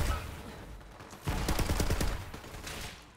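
A rapid volley of gunfire erupts in the shooter game Borderlands 3, a loud burst of closely spaced shots lasting about a second after a quieter stretch, then fading into lingering ambient noise.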